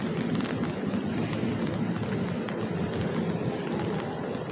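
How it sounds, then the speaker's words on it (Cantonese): Steady rain falls in a city street, a dense, even hiss with faint dripping and patter that stays constant throughout, heard alone. "而家咧就落緊雨啊"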